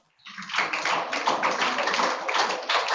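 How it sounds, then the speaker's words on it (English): Students in a classroom break into applause for a classmate, a brief quiet moment giving way to a dense, sustained patter of many hands clapping at a fairly steady level. "let's clap for him as well"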